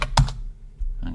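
Computer keyboard typing a short folder name, a few quick key clicks close by, with a brief burst of strokes at the start and another cluster near the end.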